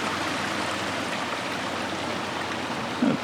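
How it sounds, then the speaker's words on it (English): A small shallow creek with a sandy bed flows steadily nearby, giving a continuous even trickling and rushing of water with no voices. "A pretty little creek."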